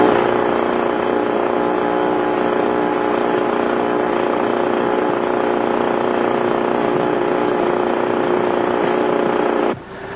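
An aircraft's number one engine is started and holds a loud, steady, droning roar that runs continuously and then drops off sharply at the very end, with no voices over it.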